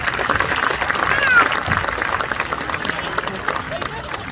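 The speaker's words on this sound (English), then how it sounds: "Round of applause for them." Crowd applause at a 2021 high school graduation, honoring a school board president and a city council representative, spreads through the stands and swells briefly before tapering, with a voice speaking over it.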